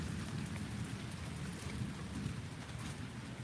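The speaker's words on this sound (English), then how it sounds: "A fair amount of rain there." Steady rain falls continuously, a dense hiss and patter on surfaces with a low rumbling undertone throughout.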